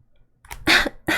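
A narrator's voice imitates a flower coughing in a quiet reading of The Little Prince: a soft lead-in breath, then two or three close, dry cough bursts, the loudest in the middle, alone without other sound.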